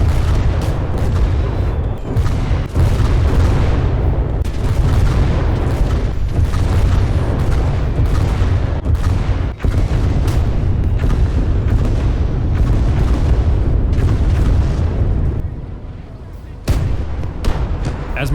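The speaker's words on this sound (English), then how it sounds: "As my southern flank is able to retreat from a massive artillery barrage" Continuous heavy rumble of a massive artillery barrage in a WWII strategy game, dense overlapping booms and blasts filling the whole stretch, dropping briefly near the end before resuming.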